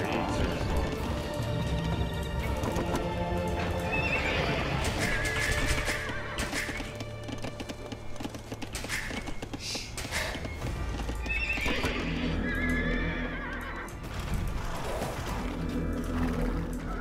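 Horses neighing and whinnying over clattering hooves in the Age of Empires 2 video game, loud and continuous with repeated whinnies amid other game sounds and some talk.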